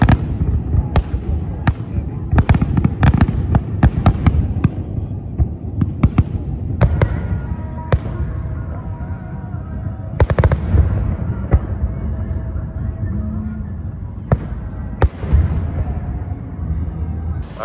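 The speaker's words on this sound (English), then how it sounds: "oh, we'll see fireworks tonight at 8." Fireworks boom at night in the streets of Washington DC, a steady series of sharp distant bangs and thuds with irregular spacing over a low rumble of outdoor ambience.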